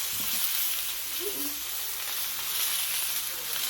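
Garlic sizzling in grapeseed oil in a pan, a close, steady frying hiss that holds evenly with no pauses.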